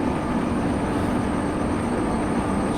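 Locomotive in a Train Simulator game running along track, a steady, continuous rumble of wheels and rails with no voices.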